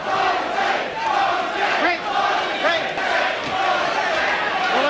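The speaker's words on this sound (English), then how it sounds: "Crowd taking up a chant of Jose." A boxing arena crowd chants a fighter's name in loud rhythmic waves, a roaring mass of voices with repeated swells over a constant background din.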